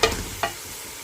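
Spiced chicken cooks in a pan, giving two short sharp sizzling bursts as it is stirred, followed by a steady soft frying hiss, close and alone.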